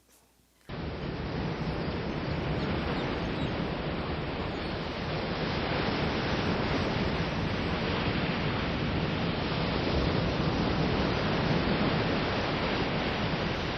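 Steady ocean surf rushes as a dense, unbroken hiss on a subliminal affirmation tape, starting abruptly after a moment of quiet and holding at an even, fairly loud level throughout with no voices.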